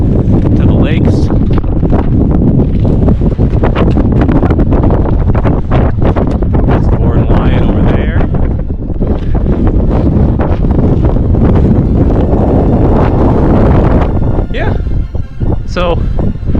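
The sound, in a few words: strong wind gusts on a mountain peak, wind noise on microphone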